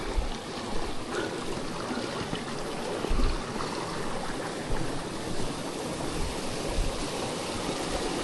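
Water flows steadily in a stream, a constant rushing babble with occasional louder splashes, close by and with no voices.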